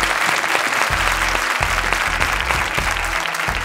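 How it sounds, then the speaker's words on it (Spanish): Loud, close applause from a group, dense continuous clapping that holds steady from start to finish with no voices over it. "¡Un aplauso a las arañas!"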